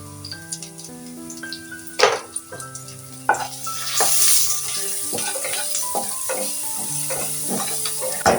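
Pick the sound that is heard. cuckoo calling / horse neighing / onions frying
onions frying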